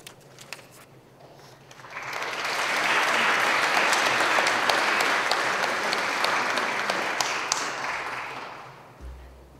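Applause from a crowd at a Catholic college graduation Mass swells after a couple of seconds, holds steady for several seconds, then fades out.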